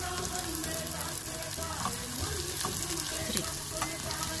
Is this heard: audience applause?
no